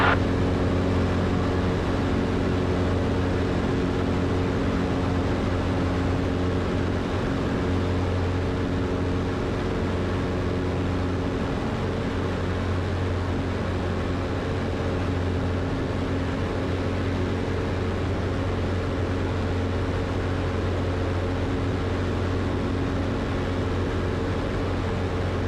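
Zenith CH 750 Cruzer light sport kit aircraft in flight: a loud, continuous engine drone with a steady hum throughout, heard alone.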